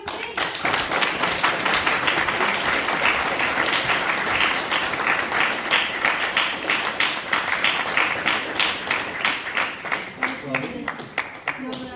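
A graduation audience claps for a graduate called up to receive his award, steady rhythmic clapping throughout with a few voices and cheers near the end.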